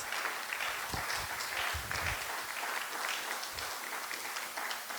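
A church congregation claps in praise during a sermon, a soft, distant patter of applause holding evenly throughout, with a few low thumps and murmurs beneath.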